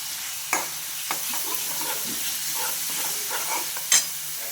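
Tomato frying with curry leaves, cumin and chutney masala in a pan for udid dal, a soft steady sizzle with a few sharp stirring scrapes and clinks, close and fairly quiet with no voices.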